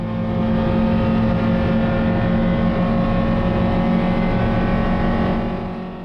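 A race car circuits Phillip Island GP Circuit, its engine holding a steady, loud drone with strong tonal harmonics throughout, heard close as from onboard.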